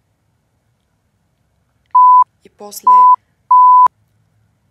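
Three identical electronic beep tones, each about a third of a second, sound at an even pace, with a brief burst of speech between the first and second beeps.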